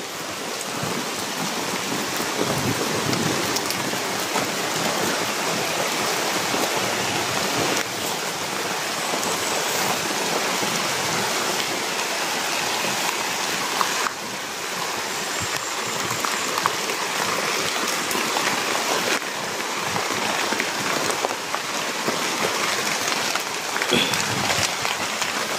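Heavy rain pours steadily and loudly throughout, a dense continuous hiss of downpour with no voices or breaks.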